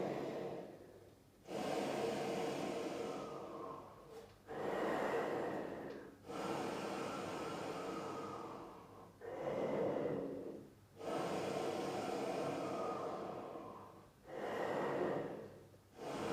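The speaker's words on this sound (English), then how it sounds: "we're going to blow through the instrument. Only through the instrument, only air." Breath pushed through a low brass instrument with no tone, only air: six long steady rushes of wind, each several seconds, separated by short pauses for inhaling, close and moderately loud.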